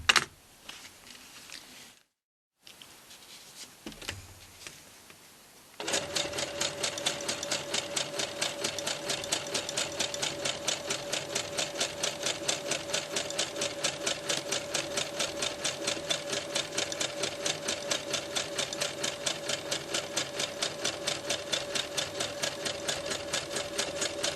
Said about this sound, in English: I'm just going to back stitch a couple of stitches